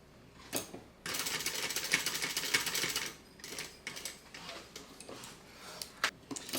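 A sewing machine bastes a key fob onto a bag lining, running in a loud, rapid burst of stitching, then stopping and starting in shorter, quieter runs.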